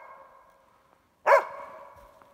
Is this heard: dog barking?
yes